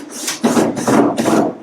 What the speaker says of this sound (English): I'm running my screws everywhere.